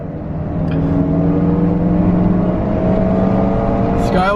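A Nissan Skyline R34 GT-R in Midnight Purple V-Spec trim accelerating hard while racing a BMW E92 M3: steady engine drone climbing in pitch through a gear, heard from inside with speech over it.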